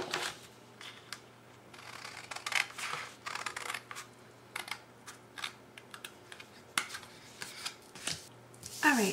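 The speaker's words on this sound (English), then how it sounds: "simply just following my score line and carefully cutting it out" Paper is cut out along a scored line with scissors, an irregular series of close, crisp snips and rustles with short pauses between cuts, and no one talking over them.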